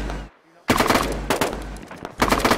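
Bursts of automatic gunfire in a first-person shooter video game, loud and close, with a short pause before a sustained volley and a final burst, no talking.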